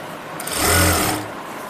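A domestic sewing machine runs in one brief close burst while stitching the seam of a palazzo, a rising mechanical whir that swells and fades within about a second.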